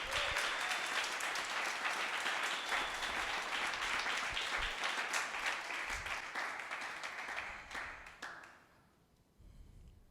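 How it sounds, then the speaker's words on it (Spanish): Church congregation applauding during a Spanish-language sermon, a dense sustained wash of clapping that stays loud for about eight seconds, then thins out and fades to a few scattered claps near the end. "¿Cuántos les dan un aplauso al Señor?"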